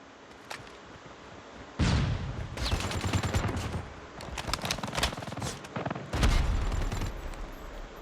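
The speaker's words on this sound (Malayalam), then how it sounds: "എവിടെ നിന്ന് വെടി കിട്ടിയ?" Gunfire in the Call of Duty Mobile shooter: loud bursts of automatic fire in several rapid volleys, with a couple of heavier blasts, close and dominant over a quiet game background.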